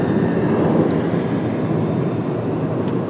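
Jet aircraft noise at Washington Dulles airport, a steady broadband roar heard from a distance, continuous and fairly even, with no talk.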